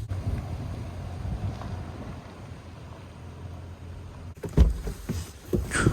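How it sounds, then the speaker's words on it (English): Steady low wind rumble buffeting the microphone outdoors, then gusty handling noise and rustling near the end. "It's really windy and cold out."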